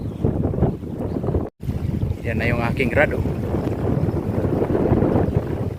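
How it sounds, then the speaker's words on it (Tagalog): Strong wind roars and buffets the microphone over open water, with someone speaking briefly partway through. "Grabe ang lakas ng hangin."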